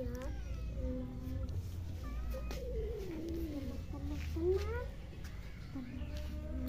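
Cats yowling and caterwauling in long, rising and falling wails, close and loud, with several drawn-out cries in a row and people talking quietly in the background.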